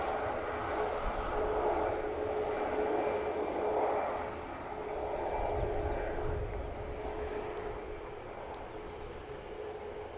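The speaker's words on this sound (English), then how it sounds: "This is the EasyJet for Faro making its way over." EasyJet airliner bound for Faro passing over an airport, a broad, steady jet roar heard from a distance that swells and slowly fades, with no talk over it.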